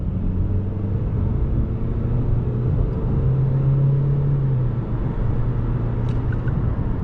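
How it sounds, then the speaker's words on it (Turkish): Diesel engine of an Opel Astra J 1.6 CDTI 136 HP under full-throttle acceleration, heard from inside the car as a steady low rumble with a slowly rising drone, no talk over it. "Dip gaz yaptım"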